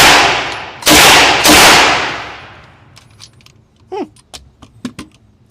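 A Sterling submachine gun firing on an outdoor range: two loud, close bursts with ringing decay, followed by scattered lighter metallic clinks and clatter.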